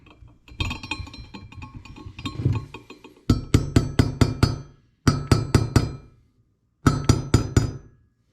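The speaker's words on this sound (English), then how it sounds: "I'm just using the hammer to straighten it out" Three bursts of sharp metallic hammer blows straightening a part during a 1985 Honda Tecate 3 front wheel bearing replacement, several quick strikes each, ringing close and loud, after a stretch of clattering workshop noise.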